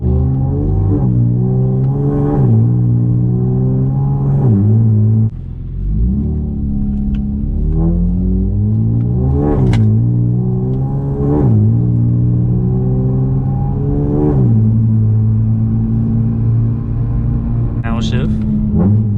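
A nearly 400-horsepower Cadillac CT2 accelerates hard from the driver's seat, engine note repeatedly climbing and dropping with each gear shift, loud and close, while the driver talks over it.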